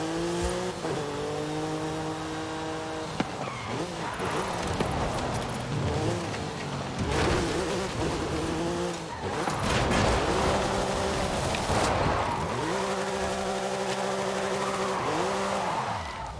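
The engine of a Vocho in the racing game Forza Horizon 5 throttles up gradually, a steady droning rev that rises and falls, mixed with tire squeal and skidding. The sound stays loud throughout with no voice over it.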